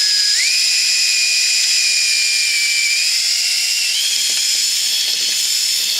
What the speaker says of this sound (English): I'm going to be drilling out the rivets on this end.